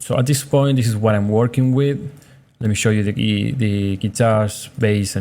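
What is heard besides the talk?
No everyday noises stand out.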